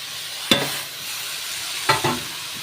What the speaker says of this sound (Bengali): দিয়ে আমি কিন্তু এবার সবজিগুলো দিয়ে দেবো।